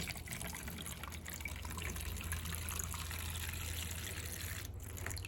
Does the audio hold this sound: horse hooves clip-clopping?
no